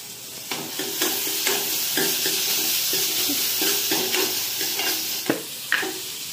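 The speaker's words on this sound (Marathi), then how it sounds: "आपण भाजले टोमॅटो" Onion and tomato frying in a pan make a close, steady sizzle, punctuated by repeated scraping stirs and a few sharp clinks of a utensil on the pan.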